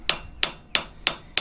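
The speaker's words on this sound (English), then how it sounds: "I'm still hammering on it at a black heat." A hand hammer planishes a forged steel slitting punch at black heat on an anvil, striking five sharp, ringing blows at a steady, even rhythm, loud and close.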